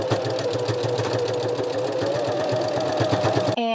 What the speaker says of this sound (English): I'm just gonna do a line of sewing.